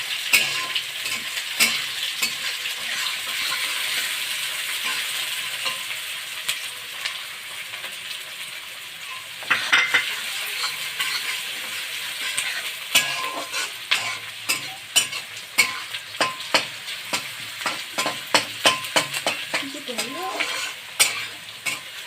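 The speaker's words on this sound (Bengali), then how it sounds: "ফোড়নটা হয়ে গেলে এবার পেঁয়াজ দিতে হবে। এই নড়ালে কিন্তু ভালো হবে।" Onions frying in a hot pan as the base for masala butter bhindi, a steady close sizzle broken by repeated sharp scrapes and clinks of a spoon stirring, growing busier toward the end.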